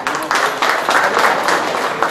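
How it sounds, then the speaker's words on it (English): Applause from an audience at a live event, a brief burst of dense clapping up close, steady throughout with a faint murmur of voices. "So, round of applause for that."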